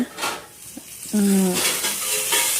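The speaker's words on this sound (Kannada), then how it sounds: "ಎಣ್ಣೆ ಹಾಕಿ ಫ್ರೈ ಮಾಡಬೇಕು." Oil sizzles loudly and continuously in a pan while eggplant is fried for a North Karnataka stuffed eggplant curry, with stirring clinks and a brief tonal squeak partway through.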